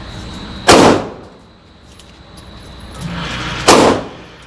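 Two loud, sharp gunshots crack at a shooting range about three seconds apart, each followed by a brief decaying echo against a quiet background.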